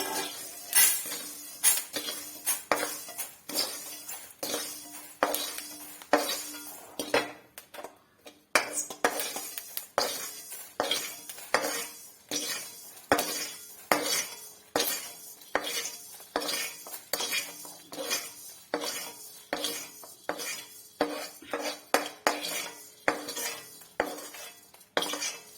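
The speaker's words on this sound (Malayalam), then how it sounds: "അരിയെല്ലാം നല്ലതായിട്ട് മൂത്ത് നമുക്കിനി ഇതെല്ലാം കോരി കഴിഞ്ഞെടുക്കാം" Roasted rice being scooped out of a pan with a metal ladle, repeated scraping and clinking strokes in a steady rhythm, close and fairly quiet, with a faint sizzle beneath.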